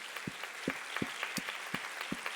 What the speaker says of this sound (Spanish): Demos un aplauso a Jesucristo.